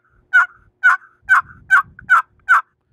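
A hand-held turkey call imitates a wild turkey hen's plain yelp, sounding six clear, evenly spaced yelps close up, each short and nasal.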